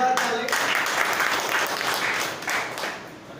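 A live audience breaks into loud, sustained applause at a business income gathering in India, dense clapping running the whole stretch and easing slightly at the end.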